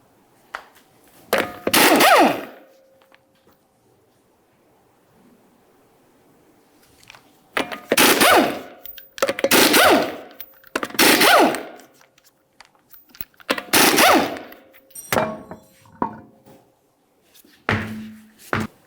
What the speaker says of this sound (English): you can continue on to removing all 5 of your 19mm lug nuts and then the wheel